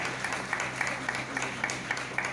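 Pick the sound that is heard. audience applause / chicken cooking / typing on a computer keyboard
audience applause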